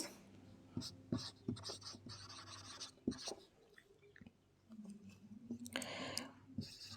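A pen writes short notes during a chemistry lesson on ammonia manufacture, making faint, close scratchy strokes and taps in irregular bursts with quiet gaps between them.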